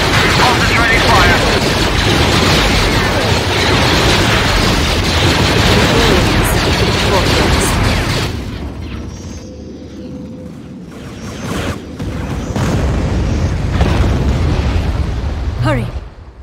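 A Y-Wing bombing run in the Empire at War game, with dense, loud explosions and gunfire for about eight seconds, then a quieter lull before more blasts return, with game voices speaking.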